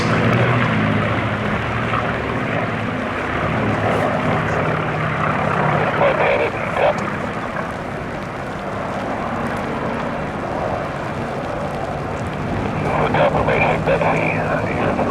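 A P-51 Mustang flies at the Duxford D-Day 75 airshow, its propeller engine droning steadily in the distance while an announcer talks over it.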